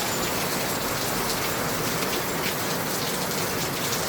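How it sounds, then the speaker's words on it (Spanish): Heavy rain pours steadily, a dense unbroken hiss of drops striking surfaces, loud and close with no pauses. "aquí tenemos una lluvia fuerte."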